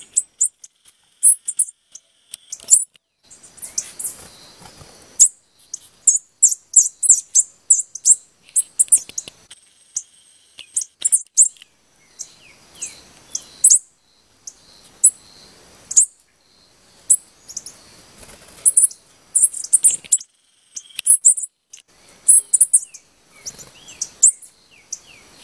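Rufous-collared sparrows, an adult with its chicks, give repeated high, thin chirps and calls close by. The bursts are scattered and intermittent, with quiet gaps between them.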